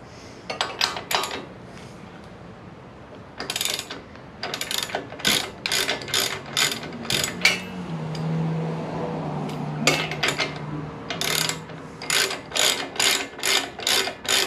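Hand ratchet with a 24 mm socket turning the rear wheel nut on a Royal Enfield motorcycle, close and crisp, clicking in quick bursts of repeated strokes separated by brief pauses.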